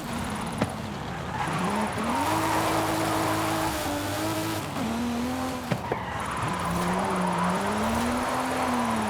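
Racing car in Forza Horizon 5 driving hard, engine droning and rising and falling through gear changes as tires squeal and skid, loud and continuous with brief clicks.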